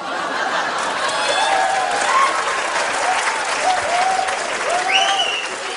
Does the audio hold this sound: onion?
no